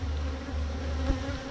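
Honey bees buzz inside an opened hive frame box, a dense, steady close drone with a slight rise partway through.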